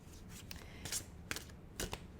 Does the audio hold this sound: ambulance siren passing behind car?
no